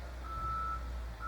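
A Cat 924H wheel loader sounds its reverse alarm, a steady high tone holding for about half a second, pausing, then starting again over a low, constant engine rumble, with no talk.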